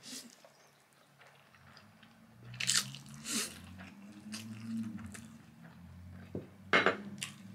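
Someone eats creamy carbonara fire noodles up close, with soft slurps, squishy chewing and a few sharp clinks of cutlery against a dish, spaced irregularly over a quiet background without talk.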